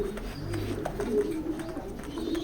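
Racing pigeons in a loft give soft, low repeated coos close by, overlapping murmuring calls over a quiet background.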